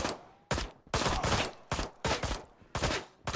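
Gunfire from a gun in the game Ride to Hell: Retribution, several loud shots spaced at irregular intervals, each bursting sharply and ringing briefly before the next.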